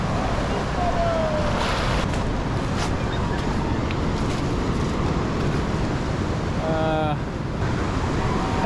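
Ocean waves washing onto a beach, a steady loud broadband rush of surf and wind throughout, with no talking.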